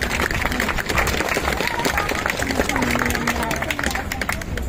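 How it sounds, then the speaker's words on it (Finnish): An outdoor May Day crowd in Vantaa claps steadily for the politician Antero Eerola, a thick, even patter of applause with chatter and murmuring voices mixed in. "Aplodit Antero Eerolalle."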